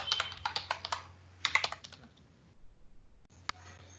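Close, crisp computer keyboard typing while code is written, coming in quick clattering bursts, then a pause and a final lone keystroke.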